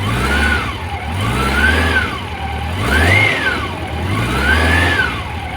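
A 1997 Honda CB750 motorcycle engine idles close up. It gives a loud, steady, throbbing rumble that rises and falls in slow, regular swells about every two seconds, with no voices.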